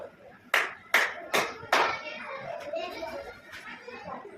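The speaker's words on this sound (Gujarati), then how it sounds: "સાચો જવાબ છે તાળી પાડો" Children in a classroom clap their hands four times in an even, sharp rhythm, each clap loud and close, followed by murmuring young voices and background classroom chatter.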